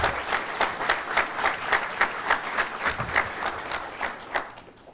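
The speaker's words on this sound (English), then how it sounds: "But they still deserve a round of applause." Graduation audience at a probation corrections officer academy ceremony applauding instructors, a crowd's clapping that settles into a rhythmic, near-unison beat before thinning out at the end.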